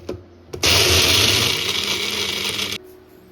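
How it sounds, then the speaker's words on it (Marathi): A kitchen mixer grinder grinds crab claws in one sustained loud whirring, rattling burst of about two seconds that starts and cuts off abruptly, with a soft clatter just before it starts. "आता चला आता आपण मिक्सरला नांग्या वाटून घेऊ मस्त."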